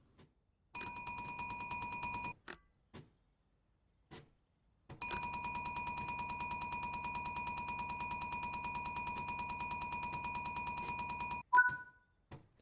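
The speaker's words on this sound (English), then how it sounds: "Press the fire alarm test button for 2 seconds to ensure the system is working." Fire alarm test in a locomotive cab in a train simulator game: a loud electric bell rings in two bursts, a short one and then a longer one lasting several seconds, with a few clicks between them.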